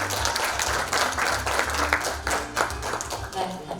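Audience applause at a Jeju peace forum session as a keynote speaker is introduced, steady clapping from the crowd with murmured talk and low hum underneath.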